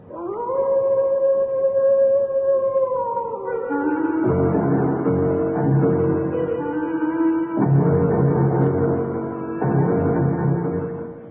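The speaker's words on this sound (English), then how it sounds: "They say it's the cry of the Hound of the Baskervilles" A long, steady howl gives way to a wavering chorus of layered howls and yips, loud and continuous with no talk: a radio drama effect for the Hound of the Baskervilles crying across the moor, from a 1977 adaptation.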